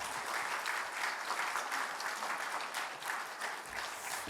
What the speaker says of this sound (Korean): 목사님 나오실 때 큰 박수로 맞아주시면 감사하겠습니다